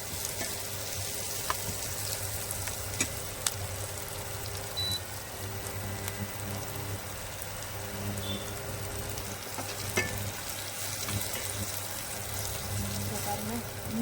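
Chopped tomato sautéing in a pan for rava upma, giving a steady low sizzle and crackle with faint stirring scrapes throughout, fairly quiet and even.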